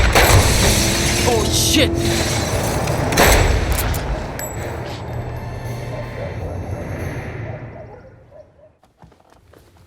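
Gunfire and crashing impacts in a Hollywood action movie, loud sharp bursts over a busy soundtrack that fade out, with a brief exclamation from a voice.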